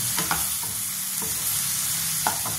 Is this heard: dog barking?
no